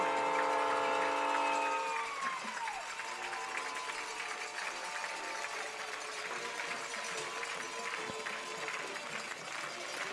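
Crowd at a 2014 high school football game between Portsmouth and West applauds and cheers as the teams run onto the field; broad steady applause and crowd noise fill the clip from start to finish, louder at the beginning, with a tonal sound fading early on.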